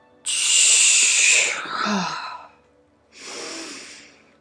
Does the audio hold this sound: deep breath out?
yes